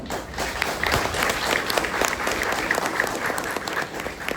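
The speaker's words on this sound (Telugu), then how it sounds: "ఇద్దరిని కూడా మనము అభినందించి చప్పట్లు కొట్టి వారిని మనం ప్రోత్సహిద్దామా?" Audience at a Christian music album launch clapping together, a dense, steady burst of applause at moderate distance with faint voices mixed in.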